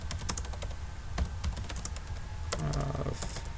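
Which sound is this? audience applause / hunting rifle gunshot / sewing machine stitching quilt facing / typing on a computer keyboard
typing on a computer keyboard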